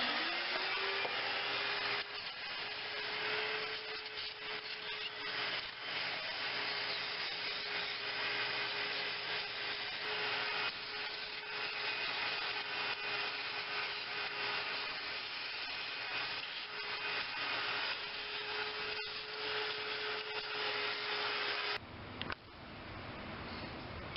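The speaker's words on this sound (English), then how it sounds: "I just got a little nylon hose hooked up on a shop vac." Shop vac with a small nylon hose attachment vacuuming out a GM 3.4L engine compartment, a steady loud motor whine running continuously before cutting off near the end, with no talking over it.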